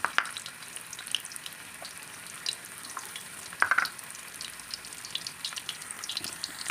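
Garlic and onion sauté together in hot oil in a pan, giving a steady, close crackling sizzle with a few louder spits and faint stirring clicks. No one speaks.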